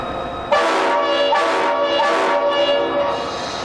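Norfolk and Western 522 diesel locomotive hauling Norfolk and Western and Virginia cabooses, a loud sustained horn sounding in four long blasts over the engine's rumble, close and alone.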